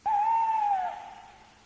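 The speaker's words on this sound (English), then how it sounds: "An owl came out and flew about," A single owl hoot rings out near and clear in a barn, a smooth tone that trails off into a soft echo.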